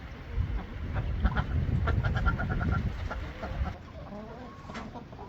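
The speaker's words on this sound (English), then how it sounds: "The chickens are inside today because we have a cold and rainy day out there." Chickens kept indoors on a cold, rainy day cluck and murmur close by, a busy cluster of short calls that thins out toward the end.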